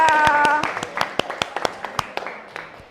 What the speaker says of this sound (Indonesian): tepuk tangan buat Aulia